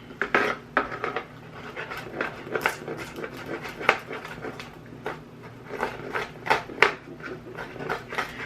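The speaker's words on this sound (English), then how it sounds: "I'm gonna go ahead and chop up this garlic" A knife chops garlic on a board in a home kitchen, making a run of close, sharp, irregular taps with clicks of the blade in between.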